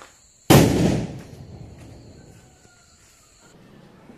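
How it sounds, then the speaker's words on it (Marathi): A single loud firecracker bang goes off close by outdoors, its sharp burst fading into a rumbling echo with faint crackle and distant noise trailing behind. "दादांनी 1-2 फटाके लावले."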